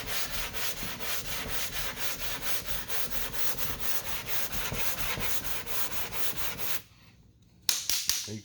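A flat sanding block rubs 2K primer along a car's body line in steady, rapid back-and-forth strokes, close and loud, before stopping abruptly for a short silent pause and then resuming briefly.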